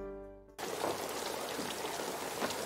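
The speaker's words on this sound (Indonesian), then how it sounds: "Setelah berdebat dengan Fred, akhirnya mereka pun lanjut terbang di tengah hujan lebat." Steady heavy rain pours down in a dense, continuous hiss, loud and close, following a brief low tone at the start.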